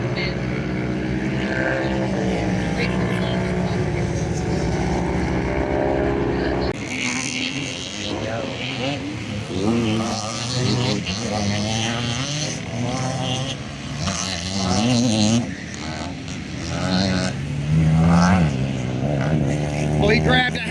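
Vintage motorcycle racing at AMA Vintage Motorcycle Days 2023, one bike accelerating hard through the gears with a rising and falling engine roar over about twenty seconds, under a commentator's voice.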